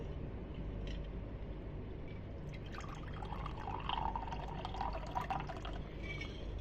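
Coke poured into a double-wall insulated tumbler, a soft steady trickle that grows into brighter bubbling and splashing as the liquid fills, quiet and alone.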